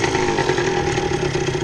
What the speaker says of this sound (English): So put the bike in gear, start it up,